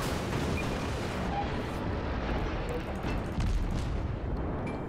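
Naval cannon fire and shell impacts in World of Warships, from a Katori cruiser battle: a continuous dense rumble of distant booms and blasts, steady and loud the whole way through, with no talk.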